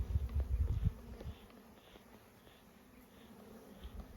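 Honey bees from a recently collected swarm hum around an opened hive box, a dense buzz loudest at first and then fading to a faint, steady drone outdoors.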